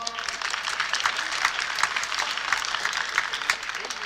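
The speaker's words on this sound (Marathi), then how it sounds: "जोरदार टाळ्या वाजवा" A crowd of parents and students at a junior college function claps together, the applause pulsing in a loose, roughly regular rhythm for a few seconds.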